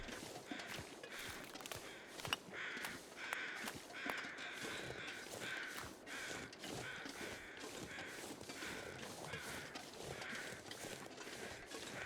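Crows cawing in the snowy wilderness of the survival game The Long Dark, repeated harsh caws at a moderate distance over crunching footsteps and ambient wind, no talk.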